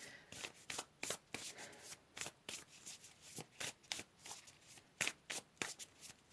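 Tarot cards are shuffled in a fast run of about twenty crisp riffling bursts in a steady rhythm, close and quiet with no voices.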